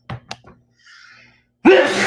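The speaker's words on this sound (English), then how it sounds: "I just sneezed." A short sneeze bursts out near the end, preceded by a few quick breathy intakes and a faint pause, close to the microphone.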